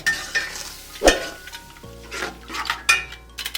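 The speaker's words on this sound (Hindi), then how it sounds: "अब हम इसके अंदर ऐड करेंगे 1 कप दही। अच्छे से हम मिक्स करेंगे" A spoon stirs a cup of yogurt into a spiced base of turmeric and cumin in a pot for chicken tikka pulao, with scraping strokes, a sharp metal knock and a soft sizzle underneath, close and fairly loud.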